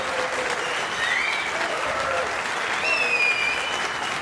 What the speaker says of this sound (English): Tickle of applause,